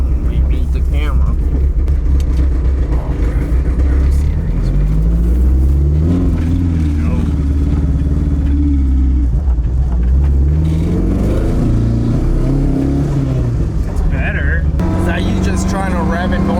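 Toyota AE86 engine free revving in a vintage build, the revs climbing and falling in several rising sweeps with rumbling exhaust, close by, while people talk over it.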